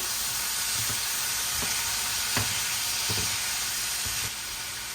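Zucchini sizzles and fries in a hot pan, a steady loud hissing crackle with occasional soft scraping stirs, and no voices over it.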